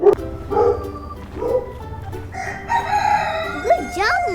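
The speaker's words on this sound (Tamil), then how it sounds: "ஏன் இந்த டாக் கோழி எல்லாம் வருது?" A rooster crows and a farm dog barks on a farm, with clucking chickens between, loud and close in alternating bursts, the rooster's rising cry closing the sequence.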